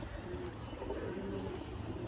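Large Giribaz pigeons with pale eyes coo in soft, low rolling calls, faint and steady under a constant background hiss, with no talk.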